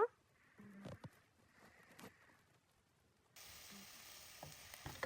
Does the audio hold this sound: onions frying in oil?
yes